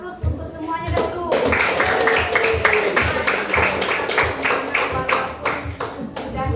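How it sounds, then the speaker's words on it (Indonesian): A classroom of students applauds after all the groups have performed, with loud, sustained clapping from many hands close by and a steady rhythmic beat running under the crowd noise. "Kita beri aplaus untuk semuanya dahulu"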